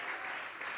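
A church congregation claps hands together, a brief, faint, even wash of applause with no pauses.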